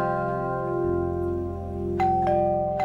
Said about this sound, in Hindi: कैसे घंटी बजा रहा है?